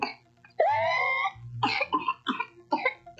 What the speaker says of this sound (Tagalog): Ganito na ba ang ubo ng anak mo?